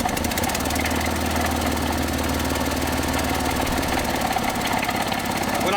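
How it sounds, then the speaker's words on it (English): A neglected Datsun 280ZX engine, sat for fifteen years, idles loud and close with a steady rough rumble and low throb that fades away partway through. "We're going to set it right there to see how happy it is to idle."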